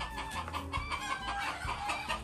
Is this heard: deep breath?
no